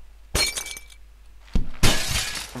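Glass crushing and shattering in the video game Happy Wheels, with two sharp breaking bursts, the second longer with a scattering of tinkling shards, loud and close.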